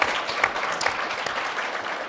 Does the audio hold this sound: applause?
yes